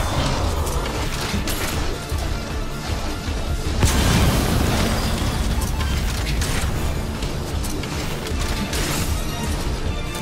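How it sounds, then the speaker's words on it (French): Explosions and crashing blasts in the video game Metal Gear Survive, loud and sustained, with a heavy boom swelling around the middle amid continuous rumbling debris and mechanical clatter, no speech. "quand je vous disais qu'il produit une explosion plutôt pas mal"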